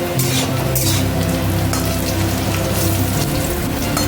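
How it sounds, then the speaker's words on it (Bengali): Vegetables for sukto, a Bengali mixed-vegetable dish, fry in a pan with a steady, loud, crackling sizzle that runs without a break from start to end, with no talk over it. "তো সেই জন্য একটু ভালো করে ভেজে নিচ্ছি।"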